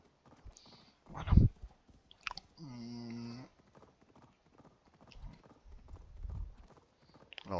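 A few hoof clops and a short horse snort or whinny in Assassin's Creed Valhalla, with pauses between sounds and some chewing-like noises.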